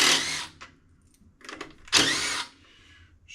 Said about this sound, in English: Just gonna take off a few 5/16 screws off the fuel pump, off the top